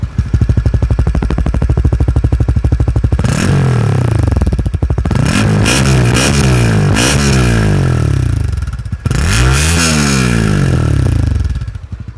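A Honda Winner X motorcycle's engine runs loud and close, idling with a steady throb and then revving up and down in several sharp surges, with no voices.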